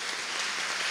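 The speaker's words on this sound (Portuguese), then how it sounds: "Então vamos acolher o padre Frei Nilson, seminarista, também com a salva de palmas" Dense, steady applause from an audience at a São José church festival night, filling a brief moment at even loudness with no talk over it.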